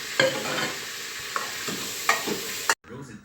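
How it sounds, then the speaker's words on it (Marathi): Whole spices tempered in hot oil for a home chicken curry, giving a steady close sizzle with a few sharp crackling pops, cutting off abruptly near the end. "ते बघा टाकले फोडणी आता."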